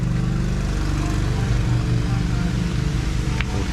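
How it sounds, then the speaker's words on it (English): A water delivery truck's engine runs at a house build site in Udon Thani, Thailand, where the truck is filling a pool, giving a steady, close, low rumbling drone that lasts throughout. "The first water truck got here."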